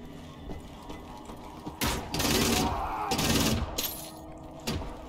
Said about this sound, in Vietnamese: Súng này mạnh quá.